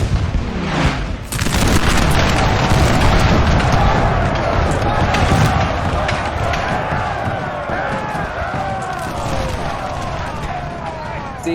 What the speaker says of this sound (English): See, they're just breaking into the artillery fire, I bet you.